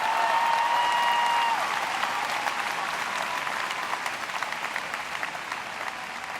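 Large commencement crowd applauding at the University of Southern California's 135th graduation ceremony, a broad sustained wash of clapping that carries on for several seconds and slowly thins, with a brief tonal sound early on.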